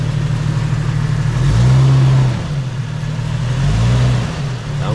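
A Jeep Wrangler JL engine on an off-road trail revs in two swelling bursts over a steady idle while a wheel spins, loud and close, with no talking.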